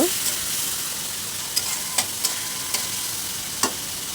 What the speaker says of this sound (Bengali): আর এই তেলের ভিতরে আমি এখন দিয়ে দিচ্ছি আমার প্রয়োজন মতো পেঁয়াজ।